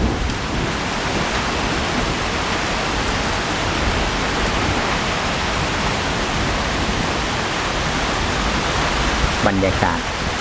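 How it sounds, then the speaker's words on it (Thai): Heavy rain pours during a hail storm in Mae Taeng, Chiang Mai, a loud, dense, unbroken roar of water filling the whole clip, with a brief faint voice near the end. "บรรยากาศฝนตก"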